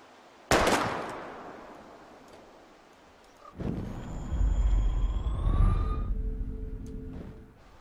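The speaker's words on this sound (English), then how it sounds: "We're gonna shoot all these bottles without wasting a single bullet." A single sharp pistol shot rings out near the start in the game Life is Strange during bottle target shooting, followed after a pause by a rumbling swell with a rising whine and a brief second crack near the end.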